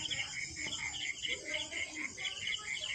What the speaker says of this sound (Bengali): ঝিঝি পোকার আওয়াজ শুনতে পাচ্ছ